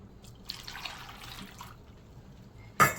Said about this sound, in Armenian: ջուր